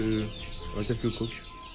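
Chickens cluck in a short burst of several quick, close calls, with a low murmur of background noise around them.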